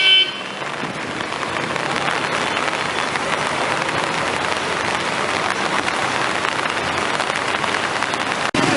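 Heavy rain pours down steadily on a street in España, Manila, during the rainy season, a dense, even roar of falling water that holds at constant strength throughout, with no voices.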